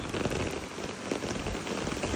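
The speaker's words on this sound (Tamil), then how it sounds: "ஜெர்மனியில் இதுமாதிரி மழை பெய்யுதுங்க" Steady rain falls in Germany, a dense, even hiss of drops on surfaces that continues without pause, with no voices.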